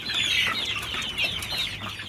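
Free-range village chickens on a poultry farm in Lampung, Indonesia, cluck close by in quick, bursty, overlapping calls. The clucking comes in several uneven waves with no speech.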